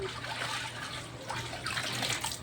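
Water splashing and trickling as a baby rinses and bathes, a soft continuous wash of liquid with small splashes, close and moderately quiet with no talk over it.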